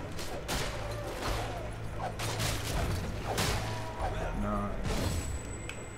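Gunfire in the Fable 3 video game, several sharp shots at irregular intervals over a low droning game background, with people talking now and then.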